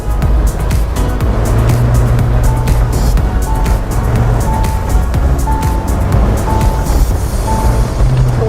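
A Mahindra Thar 4x4 with an open roof drives off-road on dirt, kicking up dust. Its engine drones loud and steady throughout, with rumbling and clatter from the rough ground.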